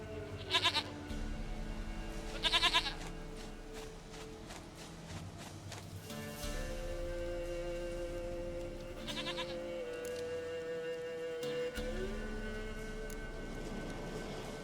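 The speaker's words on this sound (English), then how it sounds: "Goat of mine, dearest, sweetest goat." Goats bleat in The Witcher 3, three short, distinct cries spaced apart over a steady ambient game soundscape with a low background drone.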